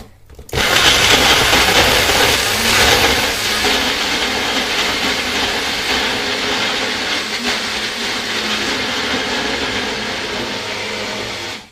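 A loud blender runs continuously for several seconds, a harsh roaring whir that starts abruptly and cuts off at the end.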